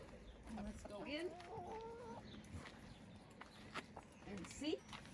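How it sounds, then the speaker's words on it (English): Chickens cluck and make soft warbling calls nearby, mixed with a person talking, the bird sounds coming in short bursts over a quiet background. "You can see they're healthy chickens."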